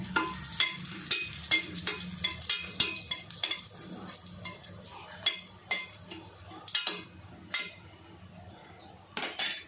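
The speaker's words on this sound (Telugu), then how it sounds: "కొద్దిగా జీలకర్ర, కొద్దిగా ఆవాలు, కొద్దిగా వేగనివ్వాలి." Cumin and mustard seeds fry in hot oil as a light sizzle beneath repeated close clinks and scrapes of a spoon against the pan, irregular and fairly quiet, with no talk.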